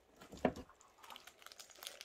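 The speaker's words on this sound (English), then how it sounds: "Get rid of that plastic bag." A plastic bag is crumpled while a craft cube is sorted, giving one sharp crinkle up close followed by a run of lighter, scattered crackles.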